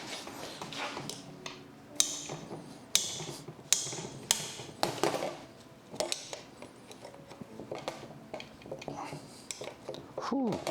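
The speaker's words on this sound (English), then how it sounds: "I need a hammer." Metal hammer striking a car pedal box during a third-pedal conversion, a series of sharp irregular clanging blows with metallic rattles and creaks between them, close by, with some talking mixed in.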